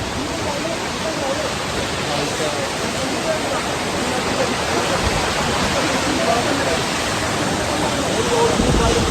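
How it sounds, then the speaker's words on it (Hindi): Chhoie Waterfall in Tirthan Valley roars up close as a dense, steady rush of falling water that fills the whole scene without letup. "तो गाइस ये देखो बिल्कुल पास से झरना।"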